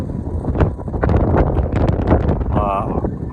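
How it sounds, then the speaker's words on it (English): Strong, cold wind gusting outdoors beside Mickleden Beck, buffeting the microphone with a steady low roar and rushes, with muffled voice sounds mixed in. "The next second that wind picks up and it's freezing."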